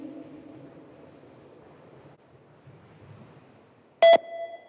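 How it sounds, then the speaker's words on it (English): A single short electronic beep signalling a 20 metre shuttle run fitness test sounds loud and sharp after several seconds of quiet outdoor background noise. "The beep test is a 20 meter shuttle run test"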